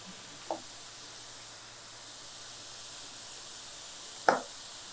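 Carrots frying in a pan with spices give a steady, low hiss of sizzling, broken by two brief clinks or stirs near the start and end.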